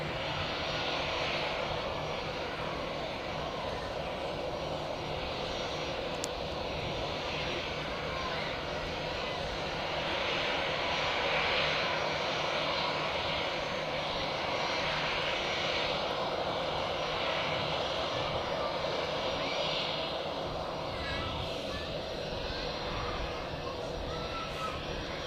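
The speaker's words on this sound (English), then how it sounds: "we have a KLM Embraer 195 getting pushed out of the alleyway" A KLM Embraer 195 jet being pushed back at Zurich Airport gives off a steady engine whine and rumble, moderately close and unbroken, with crows cawing now and then and scattered voices in the background.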